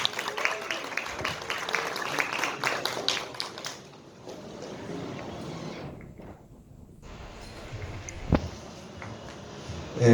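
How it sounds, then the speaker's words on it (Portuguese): An audience at a book event applauds, with a burst of clapping in the opening seconds that fades to a quieter room, followed by scattered taps and shuffles. "Uma salva de palmas."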